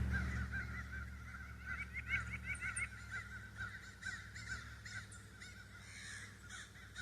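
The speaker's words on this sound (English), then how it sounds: "You can hear the crows." Crows caw repeatedly in a steady chorus on a foggy morning, several birds calling over one another at mid distance, with honking goose-like calls mixed in and a low background rumble throughout.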